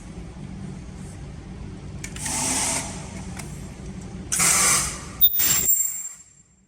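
An ultrasonic welding machine sealing a ticket slab holder case gives two short bursts of hissing, buzzing noise over a low mechanical hum. A sharp click comes between them, and the sound cuts to near silence at the end.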